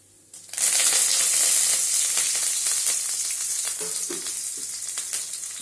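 Curry leaves and fenugreek seeds hit hot oil for a radish pachadi, bursting into a loud, bright sizzle that holds steady and slowly eases, with a few faint stirring clinks near the end.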